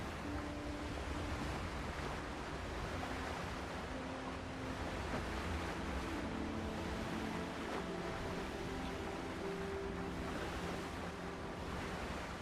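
A boat sailing across open ocean waves in the pirate survival game Windrose, with steady surf wash and wind noise rolling continuously throughout, with no voices.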